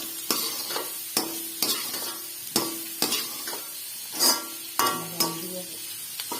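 Chopped capsicum hits a hot frying pan and sizzles steadily, while a spatula taps and scrapes the pan in a quick, regular stirring rhythm.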